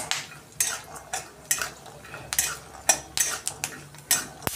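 Ingredients for a curry leaf chutney are dry roasted in a pan over low gas, with a spoon scraping and stirring against the metal in irregular clinks and rustles, close and moderately loud.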